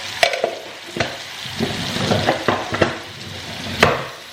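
Curry powder, turmeric and red chili powder are stirred through a sizzling pan, with sharp spatula clacks and scrapes at irregular intervals over a low, steady frying hiss, close by with no voices.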